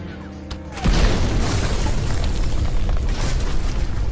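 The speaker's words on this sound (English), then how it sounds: "Also, it had a highly effective tank missile." Film-effect tank missile explosion from the red Iron Man Mark III armor, a sudden loud boom followed by a sustained roaring, crackling blast that fills the rest of the clip.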